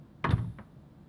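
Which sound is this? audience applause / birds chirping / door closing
door closing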